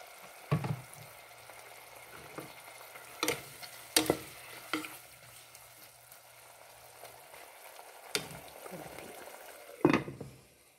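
Chicken in a pan for halang-halang, sizzling after Silver Swan soy sauce goes in: a low steady fry hiss broken by several sharp spoon-on-pan scrapes and clanks at irregular intervals.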